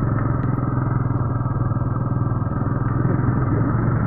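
A motorcycle engine runs steadily and close throughout the ride, a continuous mid-pitched drone with a fine rapid pulse and light clatter, no voices heard.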